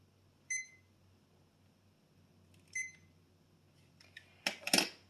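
A kitchen timer gives two short, high electronic beeps spaced a couple of seconds apart, followed by a burst of clicks and handling knocks, all fairly faint in a quiet room.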